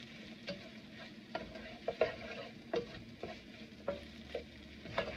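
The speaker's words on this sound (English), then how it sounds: "let's just give this a quick stir" Chickpea masala in a spicy tomato gravy is stirred in a pot, with a steady simmering sizzle and several distinct close scraping strokes at an uneven rhythm, with no voices.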